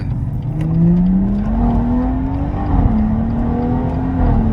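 A BMW 140i with its B58 straight-six accelerates hard, a loud steady engine drone climbing in pitch through the gears with a brief dip at a shift, heard from inside the car.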